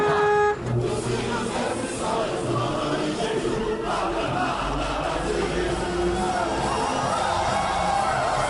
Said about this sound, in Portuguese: Buzinaço, buzinaço.